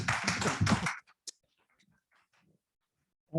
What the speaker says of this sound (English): Let's have the audience applause